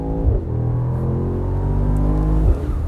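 A 2023 Mercedes-AMG SL63 engine roars loudly and close, revving up with rising pitch, briefly dropping at a gear change and pulling hard again.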